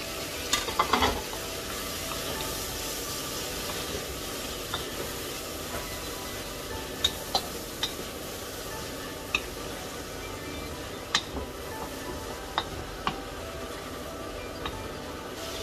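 Tomatoes and red chili stirred and sautéed in a hot pan, giving a steady low sizzle with occasional sharp clicks and scrapes of a utensil against the pan, with no talking.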